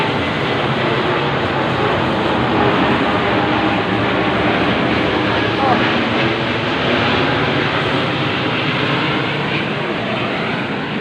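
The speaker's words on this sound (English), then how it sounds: "And the plane is over my head" A steady, loud roar of an airplane passing overhead, a broad rumbling drone that holds for several seconds with no speech.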